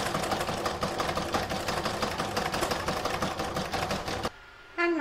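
A sewing machine running fast, decorative top stitching along the joins of a crazy patch stocking with gold thread, a rapid steady mechanical clatter at close range that stops abruptly near the end.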